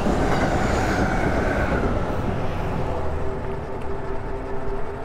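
A train passes close by outdoors, a loud, steady rumble of rolling wagons with faint clickety-clack that eases slightly toward the end.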